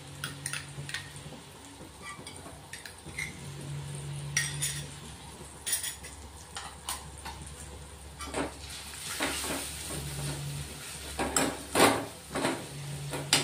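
A spoon stirring onion-coconut masala paste into dal tadka in a pan, with repeated metallic clinks and scrapes against the pan over a faint background sizzle, no speech.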